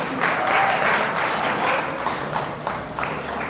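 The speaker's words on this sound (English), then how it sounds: "Big round of applause for these two flyweights." A crowd at a boxing press conference in LA applauds two flyweight fighters, a loud, dense burst of clapping that peaks early and slowly thins out.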